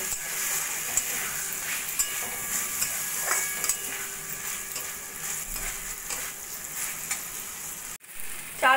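Washed masoor dal and gobindobhog rice are stir-fried with chicken in a pan, giving a steady close sizzle with occasional scrapes of the spatula, ending in a brief louder clatter, and no one speaks.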